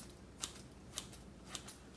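Freshly sharpened scissors snipping three times in an even rhythm, crisp and close but quiet, with no talking.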